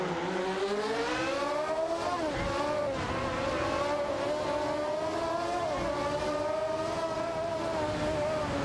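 Fittipaldi FD03 race cars in an AI racing video game, a sustained high engine whine from several cars rising and dipping with gear changes, steady and close with no voices.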